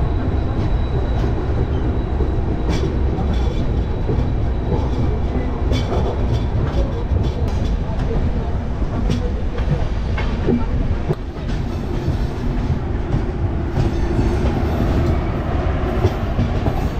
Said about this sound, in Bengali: এবার ছাড়বে ট্রেন।